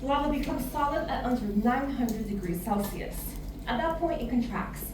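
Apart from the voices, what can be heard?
No distinct noise like a dog, phone or traffic.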